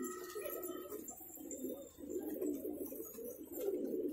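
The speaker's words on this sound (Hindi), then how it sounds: "तो ये कबूतर है" Desi girebaaj pigeons coo in a low, continuous murmur that carries through the whole stretch, steady and fairly close, with a faint bright twitter of smaller birds above and no talking.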